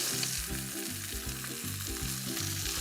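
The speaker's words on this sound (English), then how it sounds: "we'll let this simmer some more" Seared lamb loin chops cooking in a red wine sauce make a steady, close sizzle and bubble that runs unbroken throughout, with no voices.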